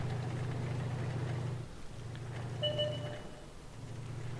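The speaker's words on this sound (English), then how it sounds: "You can start a dead tank's engine by knocking into it." A tank engine in the World of Tanks console game rumbles low and steady, cutting out briefly and resuming, with a few faint high tones over it.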